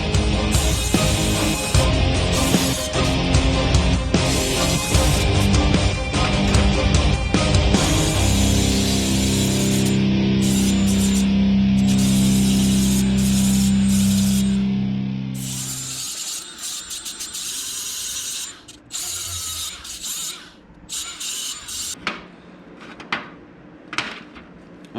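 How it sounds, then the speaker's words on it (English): An angle grinder strips the galvanized coating off scrap steel, a loud, harsh continuous grind with shifting tone that stops partway, followed by scattered clanks and handling noises of metal pieces. "that's how it looks after you grind all the galvanizing off"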